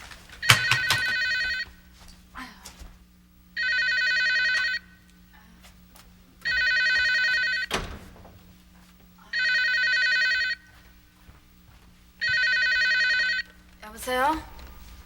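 An old telephone bell rings at night in four long, loud, evenly spaced bursts, with quiet rustling and small knocks between the rings.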